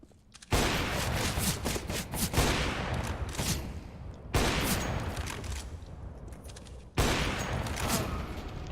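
Gunfire in Counter-Strike: Global Offensive during a Wingman match: three loud bursts of rapid automatic fire, each running for several seconds, separated by brief gaps, with no voices.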